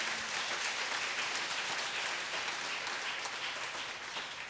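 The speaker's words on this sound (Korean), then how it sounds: "우리 박수로 하나님 영광 드리겠습니다." A church congregation claps together during a sermon to give glory to God, a dense, even wash of applause held steady for several seconds at moderate loudness.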